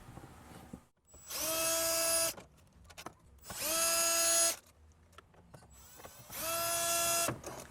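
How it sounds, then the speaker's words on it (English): A 10mm socket on an extension driven by a power tool removes radio bolts from a 2020 Toyota Tundra dash, three loud whirring bursts of about a second and a half each, separated by short pauses. "go ahead and use your 10mm socket with an extension just so you could reach all the way in there. And then go ahead and remove them."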